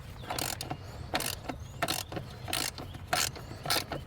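A ratchet loosens the battery terminal on a BMW 550i, giving close, loud bursts of rapid clicking in an irregular rhythm, about seven short runs over a steady low background hum.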